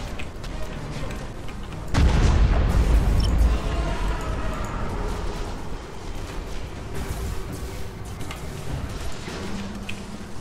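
A ship's cannon is destroyed in a space battle in a Tyranid fleet video game, a heavy booming explosion that bursts in loud and rumbles, then fades into ongoing battle noise.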